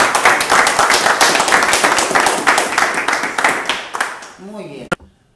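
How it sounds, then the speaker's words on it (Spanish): Dense applause from a crowd at a municipal council session in Villa Ángela, steady and fairly loud for about four seconds before fading, with a voice starting to speak as it dies away. "un aplauso para ustedes"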